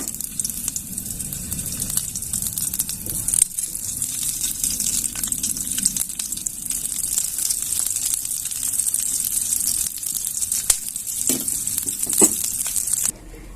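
Green chillies slit down the middle roast in a pan, giving a steady, close hiss and sizzle with faint crackles and pops for about thirteen seconds, then stopping abruptly.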